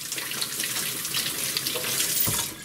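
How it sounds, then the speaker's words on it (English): Tap water running steadily over a Scrub Daddy Big Daddy scrubber sponge, a continuous close hiss and splash with slight changes as the sponge moves under the stream. "We're just going to run this under some water"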